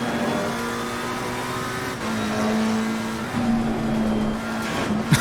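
Simulated McLaren race car engine from Assetto Corsa Competizione pulling in third gear, a steady high-rev drone that dips and recovers at gear changes, with a brief bump near the end; loud and constant, no voices.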